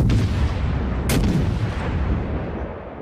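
In the World of Warships game, a heavy naval gun salvo booms loudly, with a sharp blast near the middle and a deep rumbling roar that slowly fades away.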